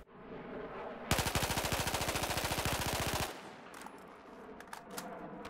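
An AEK rifle firing in Battlefield 4: one rapid automatic burst of closely spaced, sharp shots lasting about two seconds, then quieter background ambience with faint clicks.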